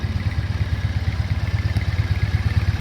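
A Triumph 865 parallel twin motorcycle engine runs close by with a steady, rhythmic low thumping, like a brisk even idle, loud and alone for about three seconds before cutting off.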